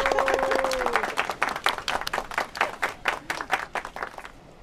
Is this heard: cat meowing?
no